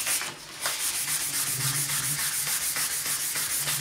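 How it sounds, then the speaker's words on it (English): A bass guitar fretboard being rubbed with 400 grit sandpaper, a loud close continuous gritty scrubbing with rapid back-and-forth strokes, with no talking. "I'll take a piece of 400 grit"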